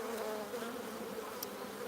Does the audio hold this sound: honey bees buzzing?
yes